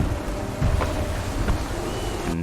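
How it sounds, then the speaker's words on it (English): Stormy wind and rumbling thunder at sea during naval sailing in Assassin's Creed III, a steady roaring gale with low rolling booms and a couple of sharper cracks, filling the scene without talk. "it's getting quite stormy"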